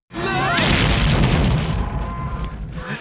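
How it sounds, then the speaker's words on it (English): An exploding-arrow blast from Rambo III hitting a helicopter: a loud, sustained boom with crackling debris and roar that holds for nearly three seconds before easing off slightly. "listen to the explosion sound."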